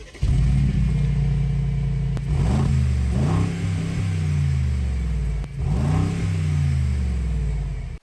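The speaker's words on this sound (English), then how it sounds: "the AMG specific quad exhausts that sound absolutely insane" The twin-turbo V8 of a 2022 Mercedes-AMG G63 revs repeatedly through its quad exhausts, a loud close rumble rising and falling in several throttle blips with crackling edges, no voices.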